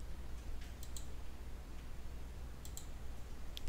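A computer mouse clicks on the end task button a few times, quick sharp clicks in small pairs over a steady low hum, fairly quiet and close.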